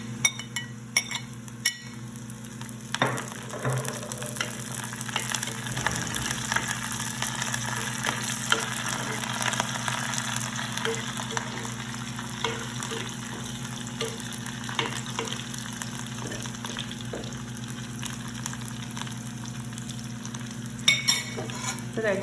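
Red chillies and curry leaves frying in hot oil for a simple dal, a steady close sizzle running throughout with occasional clinks of a spoon stirring against the pan.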